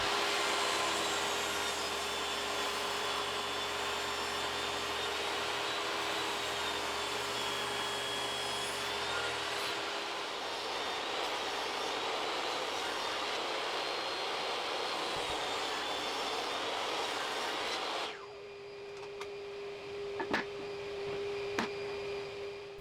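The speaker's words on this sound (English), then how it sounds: "Finally, on the table saw, remove as little as possible" A table saw rips 2x4 boards with a loud, steady motor whine and blade hum that holds for about eighteen seconds before the saw stops abruptly, followed by a few faint clicks and knocks.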